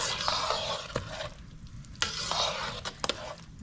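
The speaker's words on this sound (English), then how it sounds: "trying to not allow it to get clumpy. You got to continuously stir it." Cornmeal being stirred continuously in a pot for tun cornmeal, a spoon scraping and swirling through the thick mixture in steady, uneven strokes, with a few sharper knocks against the pot, close and fairly quiet with no talking.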